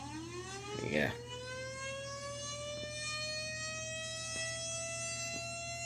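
A civil defense siren using the tone of the Chicago modulator sirens winds up to a high, sustained wail, loud and steady, while a person speaks a single brief word early on.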